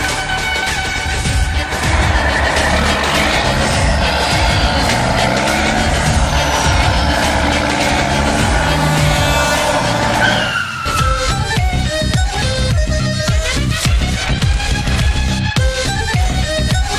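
Loud vehicle engines and screeching tires roar continuously in a Free Fire jungle scene, with a dense wash of motor noise that shifts halfway into sharper clattering and rising whines.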